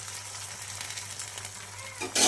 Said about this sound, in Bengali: আমি কিন্তু ডিম ভেজে নিলাম